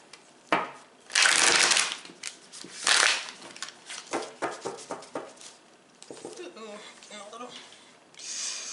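Tarot cards shuffled by hand in bursts of crisp riffling and flicking, close and fairly loud, with short pauses between runs.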